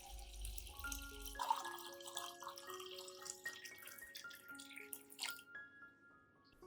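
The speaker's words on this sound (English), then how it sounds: "Add 500 milliliters of clean, room temperature water." Water pours steadily into a glass container, its pitch climbing in small steps as it fills, soft and close, with no talking.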